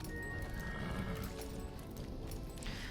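A horse in the video game Star Stable gallops with steady clip-clop hoofbeats and whinnies, heard quietly over a constant game background.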